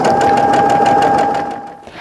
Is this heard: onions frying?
no